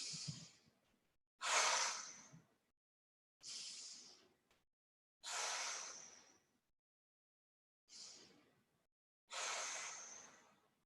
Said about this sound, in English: So close your eyes, take 3 deep breaths.